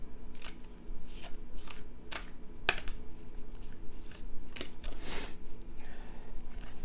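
Tarot cards being shuffled by hand, a series of short crisp riffling bursts separated by brief pauses, close and fairly quiet with no talking.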